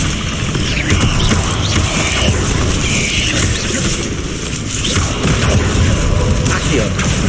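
Confringo blasting spells in the video game Hogwarts Legacy, loud booming bursts and crackling impacts layered over dense, continuous battle noise with mechanical clanks.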